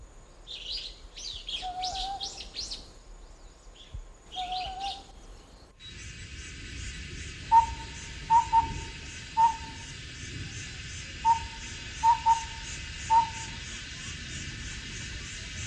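A collared owlet gives a series of short, evenly spaced whistled hoots in a steady rhythm in daytime over a constant insect drone, after some earlier chirping bird calls.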